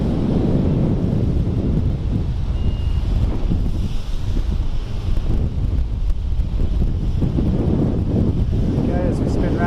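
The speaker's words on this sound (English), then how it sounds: "It was actually pretty wet and windy out on the sea trial" Heavy wind buffets the microphone in a constant low roar during a wet sea trial aboard a 2020 Fjord 44 Open, with sea and boat noise beneath and a voice speaking faintly under the gusts.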